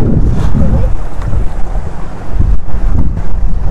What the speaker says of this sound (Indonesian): Lumayan ini ombaknya nih.